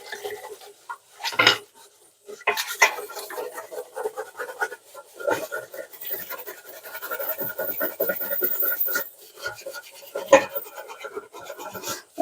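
Intermittent scraping and scrubbing against a burnt metal pot, with rasping strokes and occasional clanks, fairly close and uneven in rhythm.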